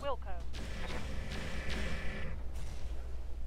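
Artillery fire aimed at a Corsair mech in Roguetech, heavy booming salvos rolling on for a couple of seconds after a short burst of voice, then fading into a lower rumble.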